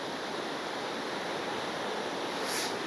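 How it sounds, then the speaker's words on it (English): Sea waves breaking on a beach along the Solent during a shore fishing session: a steady, broad wash of surf with a faint swell near the end, continuous and fairly distant. "some of these waves coming through are going to play a bit of havoc with the tips"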